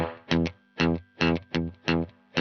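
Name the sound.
guitar amp reverb set to maximum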